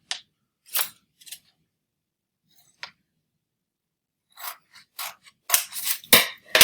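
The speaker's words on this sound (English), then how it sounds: "I'm going to cut this crease right here." Scissors snip along the folded crease of a sheet of 8.5x11 paper being made into a booklet: scattered short, crisp cuts and rustles, sparse at first, then a quicker run of close snips near the end.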